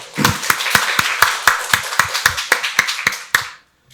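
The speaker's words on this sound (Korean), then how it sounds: "박수로 하나님께 영광 돌리겠습니다." A church congregation during Sunday worship claps together in a steady rhythmic beat, about a dozen crisp unison claps that stop abruptly, leaving silence.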